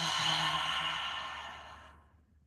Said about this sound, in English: Take a big breath in and let it go.